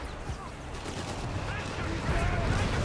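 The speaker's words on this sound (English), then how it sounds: "Got the 6-pounder gun landing a few good hits" Anti-tank 6-pounder guns firing in the Company of Heroes 3 war game, dense sharp booms and gunfire bursts over a steady rumbling battle backdrop, with a voice talking over the action.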